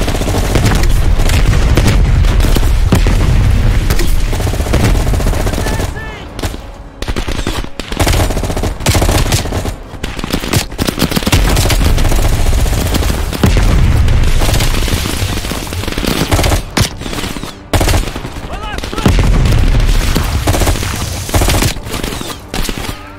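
Sustained automatic gunfire and booming explosions fill a chaotic firefight against a VC attack in Call of Duty: Black Ops Cold War, with a grenade launcher in play; dense, loud bursts continue with only brief dips throughout.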